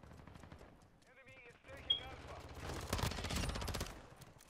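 VEL 46 submachine gun fire in a first-person shooter video game, a rapid automatic burst building in the second half, with a voice and a brief electronic tone earlier, fairly quiet overall.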